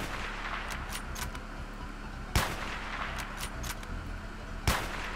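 Sniper rifle fire in a Minecraft Hunger Games match with guns: two sharp, loud cracks a couple of seconds apart over a steady game background hum, with fainter clicks in between.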